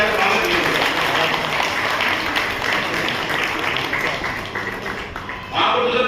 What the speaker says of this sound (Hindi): जोरदार ताली बजाएर स्वागत गर्नु